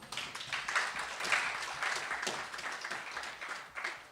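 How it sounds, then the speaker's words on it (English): A round of applause at a national journalism award ceremony, a dense burst of clapping from the audience that stays fairly strong for a few seconds and then thins slightly. "They deserve a round of applause,"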